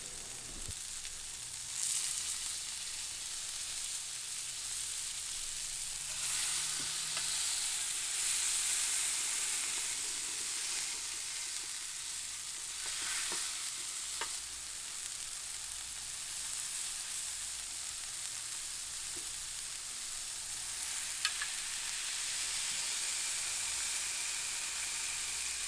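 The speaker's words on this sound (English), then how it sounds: "using a griddle spatula with the assistance of a beer bottle, I'm going to press those meatballs into the griddle so they're nice and flat" Beef meatballs pressed flat on a Weber Q griddle give off a steady, close sizzle and frying hiss throughout, with occasional scrapes and taps of a metal spatula.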